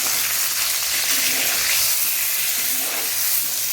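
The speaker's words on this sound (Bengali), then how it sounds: "পটলটা আমার ভাজা হতে হতে" Pointed gourd (potol) frying in oil with salt and turmeric gives off a steady, close, loud sizzle and hiss that runs unbroken without talk.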